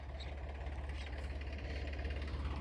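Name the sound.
modified Mahindra tractor engine running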